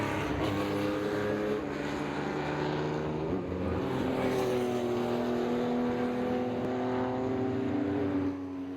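Porsche race cars at the 2022 Pittsburgh Vintage Grand Prix roar past one after another, their loud, layered engine notes rising and falling steadily through the whole stretch without a break.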